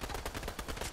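Rapid bursts of gunfire from a Fortnite firefight, several shots a few tenths of a second apart filling the second, loud and dense with no voices.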